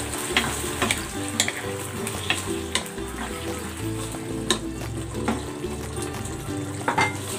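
Dried chilies sizzle and fry in a pan of oil for an okra chili garlic sauce, a steady crackling hiss punctuated by sharp stirring clicks and scrapes at irregular intervals, close and moderately loud with no talking.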